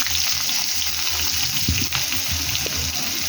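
Chopped onion frying with whole garam masala in hot oil, a steady dense sizzle with occasional clinks and stirring, continuous and close.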